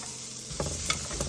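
Garlic and onion sauté in butter with a steady frying hiss. Brief scraping stir sounds come about midway and again near the end, close and moderately loud.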